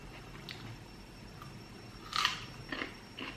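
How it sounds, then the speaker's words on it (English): Someone bites and chews crunchy cucumber up close, quiet chewing broken by a few sharp crisp crunches, with no talking. "when I'm chewing, it sounds so obnoxiously loud"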